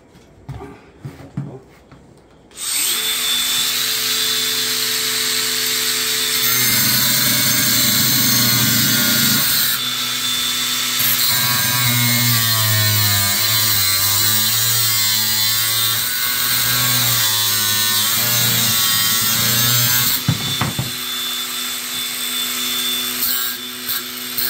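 Power saw cutting metal during a car audio install on a GV80, a loud, sustained harsh whine with shifting pitch that runs unbroken for about twenty seconds after a short start, close to the listener.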